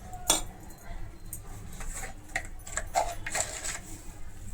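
A spoon stirs protein chilla batter with red chili powder and salt in a bowl, making quick, close clinks and taps in irregular bursts, with faint voice in the background.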